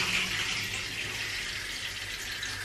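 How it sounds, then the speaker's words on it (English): Water gushes steadily from the spout of a Japanese high-tech bathtub as it fills itself automatically, giving a constant close hiss with no talking. "And here comes the water. So as you can see, it will just fill up the bathtub on its own to the predetermined volume lines."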